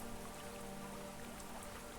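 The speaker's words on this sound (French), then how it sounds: "La pluie tombe directement sur la surface du lac." Steady rain patters down onto the open surface of a lake, a continuous soft hiss with fine scattered drops and no voices.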